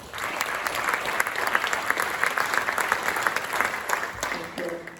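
An audience at a county supervisor candidate forum applauds in a steady, dense burst of many hands clapping for several seconds, fairly close.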